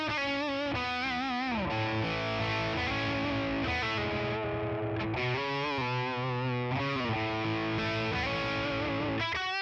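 An electric guitar plays a lead patch through a Tonex One boutique amp model, dry with no reverb: a distorted, sustained melodic line of held notes and slides, continuous and close.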